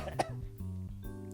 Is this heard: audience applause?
no